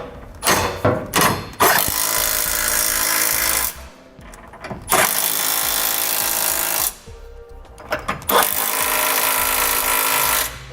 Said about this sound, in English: we can snug them down with a 3/4 inch socket